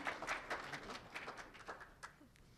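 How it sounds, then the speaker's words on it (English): Small audience at a library poetry reading applauds a guest poet, faint, short scattered clapping that tapers off, heard from a distance. "So can we give her a round of claps?"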